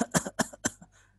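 A voice imitates the weak, repeated small cough of pneumonia: a quick run of four short, soft, evenly spaced coughs close to the microphone, then a faint breathy tail.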